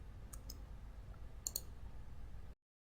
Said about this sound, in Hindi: कीबोर्ड से आपने इस तरह F12 का बटन प्रेस करते जाना है।